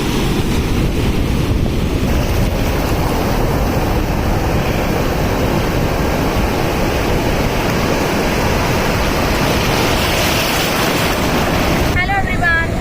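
Surf rolls onto a beach as steady wind buffets the microphone, a loud continuous wash filling the whole stretch, with a motorbike waiting nearby and a brief chirpy sound near the end.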